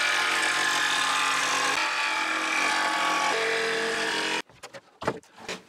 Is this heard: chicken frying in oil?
no